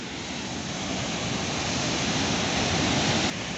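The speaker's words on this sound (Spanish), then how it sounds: "esta es la bella cascada de Molinuco" Molinuco waterfall at an ecological refuge, heard as a steady, dense roar of falling water that stays loud and unbroken throughout, with no voices.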